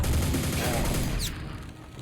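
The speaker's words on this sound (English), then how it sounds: "we got the nail gun" Nail gun firing in the Quake expansion Dissolution of Eternity, a dense rapid burst of shots that fills the first second and a quarter, then cuts off, leaving a fading tail.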